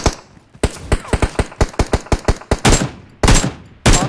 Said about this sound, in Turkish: Bu arada millet birbirini vuruyor harbiden.